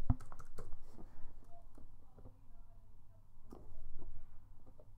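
Typing on a computer keyboard while installing a WordPress plugin, quick irregular key clicks in short bursts over a low background hum, close and moderately quiet.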